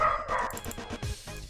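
A small dog gives a short burst of a few quick yapping barks, close and moderately loud, followed by a softer low sound.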